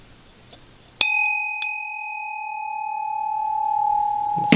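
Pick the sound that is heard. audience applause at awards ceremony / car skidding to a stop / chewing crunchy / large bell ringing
large bell ringing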